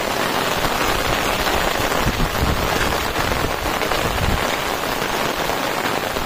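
Heavy monsoon rain pours down in a village in Konkan, a loud, dense and unbroken hiss of drops hitting the ground close around, steady from start to finish.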